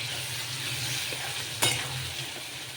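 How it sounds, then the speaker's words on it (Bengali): Shrimp marinated in turmeric and salt frying in hot oil: a loud, continuous sizzle and hiss close up, with one sharp clack of a utensil against the pan partway through. "এবার আমরা এটাতে যে হলুদ আর নুন মেখে রাখা চিংড়িটা আছে ওটা দিয়ে দেবো।"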